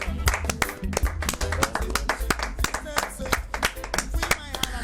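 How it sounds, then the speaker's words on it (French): Hands clapping in applause on a French television magazine show, a steady run of sharp, loud claps over a dense background of music and voices. "Je pourrais applaudir ainsi tout le long de l'émission"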